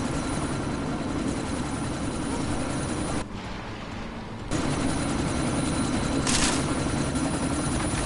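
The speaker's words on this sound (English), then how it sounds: "But you need to disable that chopper!" A helicopter in the video game Deus Ex: Mankind Divided, heard during a sandstorm, gives a steady loud rotor drone that drops briefly for about a second before returning, with no voices over it.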